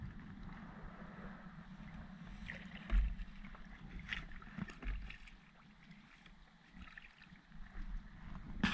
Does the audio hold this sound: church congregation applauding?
no